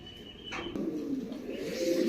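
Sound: pigeon cooing

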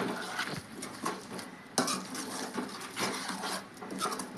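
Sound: stirring drumstick masala curry in a pot

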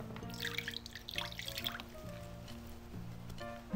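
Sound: washing with detergent and water in a science experiment

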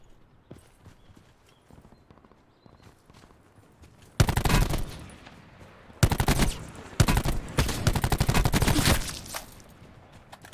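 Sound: gunfire in the video game Call of Duty Black Ops 4 Blackout

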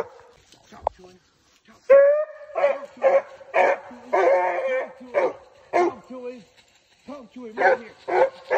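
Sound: Walker hound dog barking at a treed raccoon

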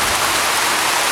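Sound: heavy rain downpour in Kenya

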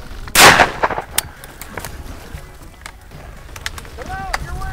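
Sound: shotgun firing while hunting quail

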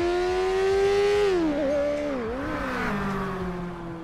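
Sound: McLaren car passing underneath in GTA 5 video game

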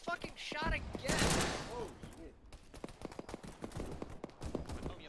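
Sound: gunfire in the video game ARMA 3

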